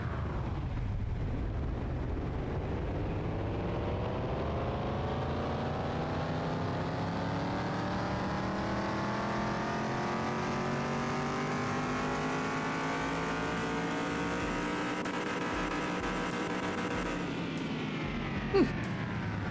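A 1956 Ford F-100's 236 engine in Car Mechanic Simulator revs on a dyno, climbing steadily in pitch for nearly twenty seconds. The loud, continuous engine tone plays alone and cuts off abruptly near the end.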